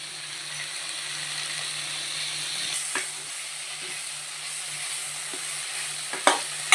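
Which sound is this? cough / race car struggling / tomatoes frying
tomatoes frying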